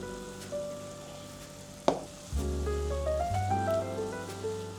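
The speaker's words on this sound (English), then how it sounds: "I fry until the mushrooms drain." Vegetables with mushrooms, hot pepper, thyme and red sweet pepper sizzle and fry in a hot pan, a steady close crackle after a sharp clank midway, with stirring sounds and no talk.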